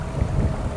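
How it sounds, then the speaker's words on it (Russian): Steady low rumbling wind buffeting the microphone, loud and constant throughout with no voices. "ветер сильный"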